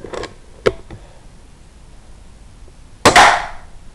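A Weihrauch HW100 air rifle fires at a target about 15 yards away, with a couple of faint clicks followed by one sharp, loud, close shot snap near the end, in otherwise quiet surroundings.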